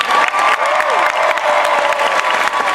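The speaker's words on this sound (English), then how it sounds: "One more round of applause, guys, for Billy Dee Williams" Packed comic convention audience claps and cheers for Billy Dee Williams, a dense, loud burst of applause with a few high whistles and voices mixed in, continuous from start to end.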